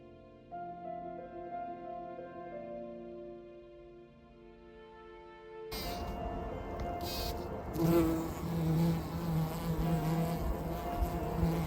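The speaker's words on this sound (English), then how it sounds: "Bumblebees can barely wait for the buds to open." Bumblebees buzzing around garden flowers in a small late-summer garden, a soft steady drone that grows fuller and nearer partway through, with no talking.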